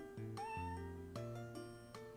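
Socks, a cat in a video game, gives a few short meows in quick succession over soft background music, fairly clear and close.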